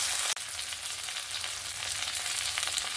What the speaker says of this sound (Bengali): মাছের অপর সাইডটাও সুন্দরভাবে ভাজা হয়ে গেছে